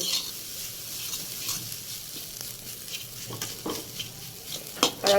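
A chana dal filling is stirred in a pan over a low, steady sizzle, with light scraping strokes that grow denser and louder toward the end.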